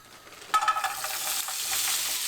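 Chestnut and cranberry Brussels sprouts hit a warm oiled pan with a sudden sizzle, then fry and crackle steadily with some stirring, close and fairly loud, no talking.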